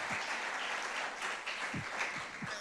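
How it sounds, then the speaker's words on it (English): Steady audience applause at a health event, a dense even patter of many hands clapping at moderate distance, filling the room without pause, with no talk over it. "can we give Go Blooming Health a round of applause for just putting this event on?"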